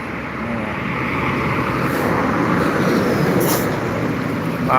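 A truck rolls past on the Jalan Lintas Timur highway in Palembang, a steady loud rumble of engine and tyre noise that holds level throughout with no voices.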